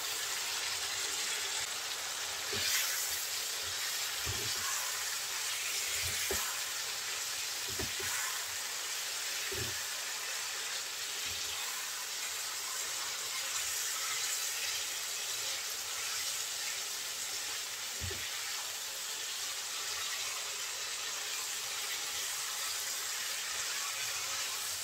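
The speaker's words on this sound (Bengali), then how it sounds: "মশলাটা পটলের গায়ে একদম শুকনো শুকনো হবে, এভাবে ভেজে নেব।" Pointed gourd (potol) pieces fry with dry spices in a pan, giving a steady, soft sizzle that stays faint and even throughout, with occasional light clicks of a utensil and no talking.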